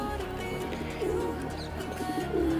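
Pigeons cooing close by, soft repeated throaty coos over a muffled background rumble.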